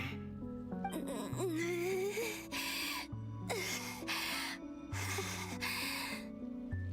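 Heavy, gasping character breaths from the video game Genshin Impact, repeated in rhythmic bursts over a sustained musical score, close and fairly loud.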